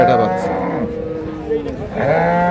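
A dairy cow moos loudly twice nearby, long drawn-out calls amid the murmur of a crowded cattle market in Dinajpur, Bangladesh.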